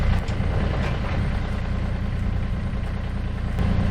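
A Woodland Mills WC46 wood chipper's engine runs with a steady, even, close-up rumble that holds without pause.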